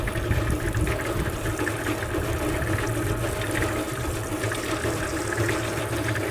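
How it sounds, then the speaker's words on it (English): Water from a hose rinses mortar off the outside of a nearly 40-year-old cement mixer, a steady close splashing hiss with no talk. "I'll also rinse down the outside, because that got a little mortar on it."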